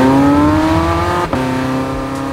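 A Porsche 918 Spyder hybrid supercar in hot lap mode, its engine loud and close, revving steadily upward with a rising pitch and one sharp break partway through, like a fast gear change, then pulling on.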